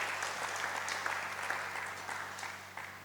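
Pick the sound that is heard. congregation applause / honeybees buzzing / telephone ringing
congregation applause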